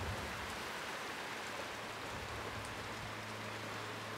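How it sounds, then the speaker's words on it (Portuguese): Heavy rain pours steadily in rural Paraíba, a dense, even hiss of drops on surfaces throughout, fairly faint and with no voices. "Chuva com força aqui na Paraíba."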